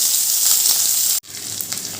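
Chopped onions hit oil tempered with cumin, a dried red chilli and a bay leaf, producing a loud, close, steady sizzle that drops out briefly and resumes slightly softer.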